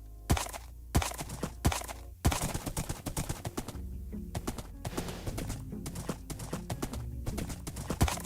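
Horse hooves clopping in the Minecraft video game, on a snowy hardcore world: sharp loud hoof clacks, first spaced and then faster and denser like a trot, continuing to the end.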